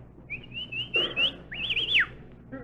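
A sharp two-part whistle to hail a taxi cab on a street, a long rising and wavering tone then a second swooping whistle, loud and close, with a brief voice between.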